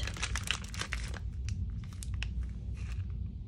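Crinkly rustling and crumpling of a plastic piping bag being twisted, dense for the first second, then softer intermittent crackles over a steady low hum.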